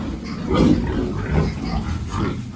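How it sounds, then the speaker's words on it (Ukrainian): Low, rough grunting from piglets, several overlapping snorts in a steady, close murmur with no talking. "це поросята."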